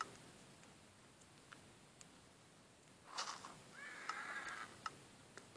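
A bay horse in Survivalcraft gives a short, faint whinny over quiet ambience, with scattered soft ticks around it.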